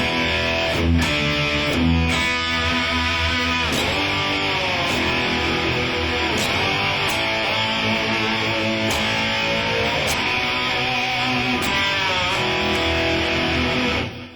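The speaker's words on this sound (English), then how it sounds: "I like to just kind of pull anything that I can with the whammy, and you can get kind of a slide guitar sound" A distorted electric guitar plays continuously and loudly with whammy bar pulls, notes bending and sliding up and down in pitch, giving a slide guitar effect.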